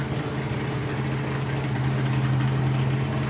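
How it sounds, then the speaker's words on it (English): Drag racing car engine idling slightly high at a drag strip meet, a steady, loud, continuous low rumble with strong even harmonics and no breaks, nobody talking over it. "it just does sound like it's idling a little bit high"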